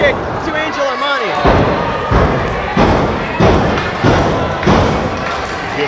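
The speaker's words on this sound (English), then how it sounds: "Oh, a drop kick to Angel Armani." Wrestling match drop kick, the ring mat giving a heavy thud followed by a series of repeated loud slams and thumps in a wrestling arena, with a commentator and crowd noise underneath.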